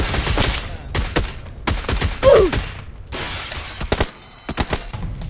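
Bursts of SCAR assault rifle fire in PUBG: New State, loud rapid volleys separated by short pauses, several strings of automatic shots over a few seconds with no talking.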